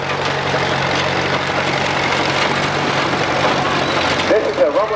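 An antique Rumely OilPull tractor runs in a farm fair parade with a steady, heavy low engine drone, while people talk over it.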